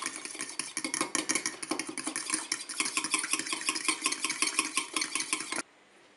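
A spoon briskly mixes a mustard, olive oil and garlic dressing in a bowl, with rapid rhythmic clicking and scraping that runs steadily close by, then stops abruptly.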